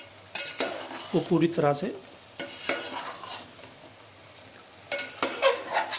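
Chilli being stirred in hot oil for chicken korma, with spoon scrapes and stirring bursts over a steady sizzle; a voice speaks briefly.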